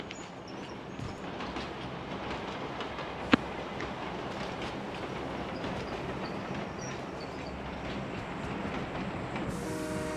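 A train in the PUBG Mobile game rumbles and clatters continuously, a steady rolling rail noise with wheel clicks and one sharp metallic clank partway through.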